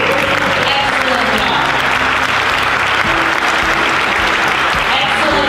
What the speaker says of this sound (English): please, a round of applause for our servers tonight